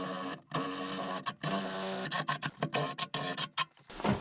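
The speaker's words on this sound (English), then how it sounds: "So I'm going to use the Sawzall and keep cutting" A Sawzall reciprocating saw cuts through the rear body of a Porsche 911. Close, harsh rasping comes in choppy bursts, broken by short pauses.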